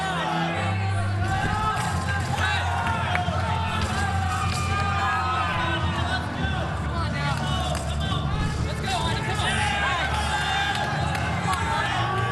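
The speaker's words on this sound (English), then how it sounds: "There's teammates cheering him on here" Teammates cheer and yell for a male gymnast at a 2012 NCAA men's gymnastics meet with Minnesota, Nebraska and Iowa, a steady roar of crowd noise and whoops filling the arena without pause.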